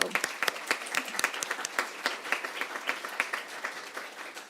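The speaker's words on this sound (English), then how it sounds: "let's give a round of applause to GAP and ICAP" Applause from an audience at a policy event on U.S.-China relations, moderate and fairly sparse with distinct individual claps forming a steady patter that gradually thins toward the end.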